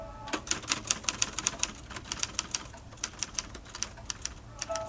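Underwood No. 5 typewriter typing, a steady run of sharp, irregular key strikes with occasional louder clacks, close and alone with no voices.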